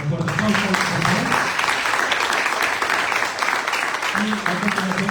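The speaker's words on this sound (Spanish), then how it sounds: "Un fuerte aplauso, por favor." An audience at a lecture on gender-focused public policy gives a guest strong applause, a continuous wash of clapping with a voice faintly audible at the start and again near the end.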